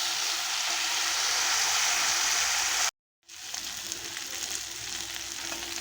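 Potato and bitter gourd pieces frying in hot oil give a steady, close hiss of sizzling that cuts out for an instant and then returns with a few crackles, and nobody speaks.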